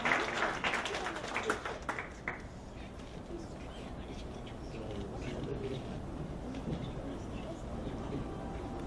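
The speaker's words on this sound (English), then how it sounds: "Please give him a big round of applause" An audience at a corporate awards ceremony claps, loudest at first and then settling into a thinner, steadier patter of hands for several seconds.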